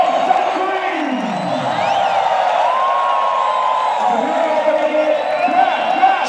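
A large cricket crowd in Rawalpindi cheers and whoops loudly and continuously, with horn-like blasts and shouts rising and falling over the roar.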